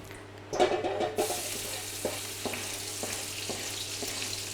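Spices sizzle in hot oil in a pan, a soft continuous frying hiss with a burst as they hit the oil, followed by a few light clinks and stirring taps.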